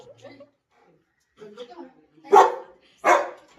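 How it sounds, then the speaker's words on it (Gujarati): A house dog barks twice loudly and close, two sharp spaced barks after quieter scattered sounds and faint voices. "અહીંયા તો એમનો કૂતરો છે તો મને બીક લાગે છે બહુ"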